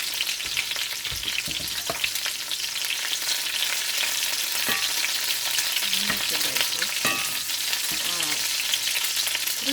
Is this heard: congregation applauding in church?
no